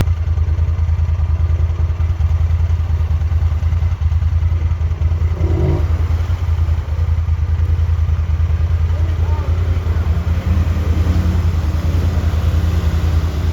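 A 2024 Can-Am Outlander Sportsman 1000 Highlifter ATV churns through sticky mud, its engine a loud, constant low rumble with steady clattering throughout.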